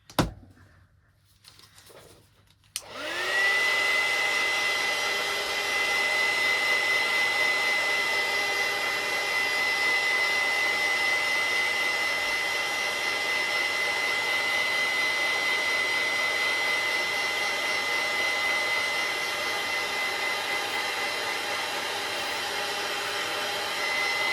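A hair dryer blowing over Mod Podge on a mixed-media craft envelope, switched on after a few soft handling clicks and then a loud, steady, close whir with a constant whine that runs unbroken.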